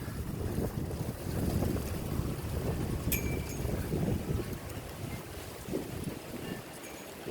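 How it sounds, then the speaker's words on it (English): Gusty wind buffets the microphone with a low, rumbling roar that rises and falls throughout, with no talking. "A little bit windy today."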